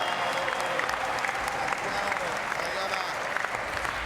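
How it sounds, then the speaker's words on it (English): A crowd at a live event applauds for a competitor, sustained clapping and cheering that holds at an even level for a few seconds. "Okay, crowd, let's hear it for Puerto Rican Steven Pinheiro"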